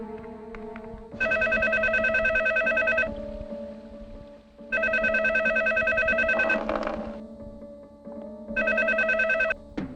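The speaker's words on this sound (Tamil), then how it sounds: "ரிங் போயிட்டு இருக்கு, எடுக்க மாட்டேங்கிறாரு." An unanswered telephone call rings out as a repeating electronic ringback tone, three long bursts separated by pauses, heard clearly and fairly close over faint background noise.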